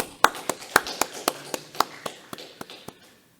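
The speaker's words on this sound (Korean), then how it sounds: "하나님 앞에 감사의 박수를 한번 해주시면 고맙겠습니다" A church congregation gives a short round of applause, about a dozen crisp claps in a slowing rhythm that fades out after three seconds.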